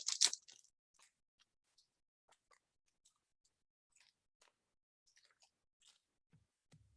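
A pack of CyberFrog trading cards is torn open up close, with a sharp crinkly rip at first and then soft, scattered crackles and rustles of wrapper and cards in an otherwise quiet room.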